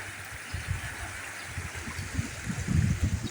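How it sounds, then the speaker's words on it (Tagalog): Water rushing steadily through a river damaged by flooding, with coconut debris carried in the current. A continuous low churning gurgle builds slightly toward the end. "At ipakita sa inyo yung ilog na sira na sa baha."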